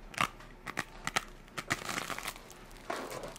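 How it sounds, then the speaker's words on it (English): Bread topped with olive oil being bitten and chewed up close, a series of sharp dry crunches in an irregular rhythm followed by softer crackling chews, with no talking. "You hear that crunch?"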